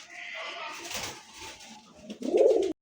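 A pair of coloured domestic pigeons, a short low coo bursting out near the end, close and clear after a stretch of someone talking.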